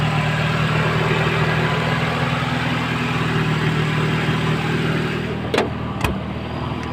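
A 1995 Toyota Corolla engine idles steadily with a low, even rumble, close by and continuous, with a couple of sharp clicks near the end.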